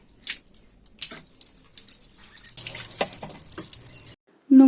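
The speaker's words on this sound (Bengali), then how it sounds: "ও কালো জল বেরোচ্ছে" Water runs from a tap while black hair dye is rinsed out, a fairly steady splashing flow that changes as hands move through it, then stops abruptly before a brief louder sound at the end.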